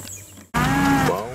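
A steer or bull lows at a Georgia cattle sale, a fairly loud, sustained moo bursting in after a brief quiet stretch and fading out near the end.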